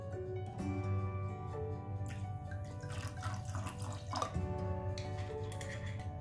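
Water and rose water are poured for kunafa syrup, a steady trickling and dripping over a low background hum, with brief clinks near the end.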